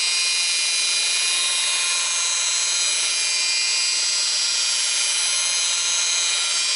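Rotary car polisher spinning continuously, a steady, loud high-pitched whine with no pauses, close by and alone.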